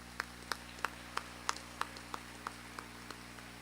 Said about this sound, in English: please join me in yet another round of applause for all of these individuals